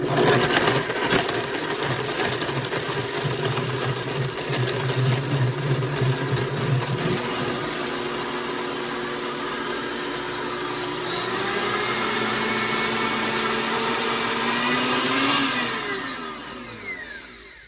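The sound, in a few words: blender blending a shake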